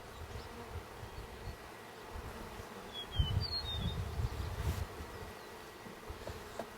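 Mountain Grey Caucasian honeybees buzz during a hive inspection of a top bar hive, a soft continuous hum with individual bees whining close past at moments, no talking.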